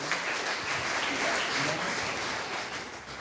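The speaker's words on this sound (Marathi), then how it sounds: "आपण त्यांच्यासाठी जोरदार टाळ्या वाजूया." Audience clapping at a book launch event held in a hall, a dense, even burst of applause that stays loud for several seconds.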